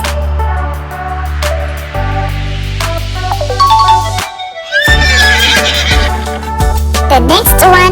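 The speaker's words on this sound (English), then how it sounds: "Horse." A horse neighing on a farm, several loud whinnies with shrill wavering calls and a brief pause midway, prominent and close.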